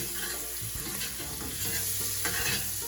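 Ingredients for a vegan eggplant curry sizzle steadily in a pot, a close, loud crackling hiss with occasional soft scrapes of stirring and no talking.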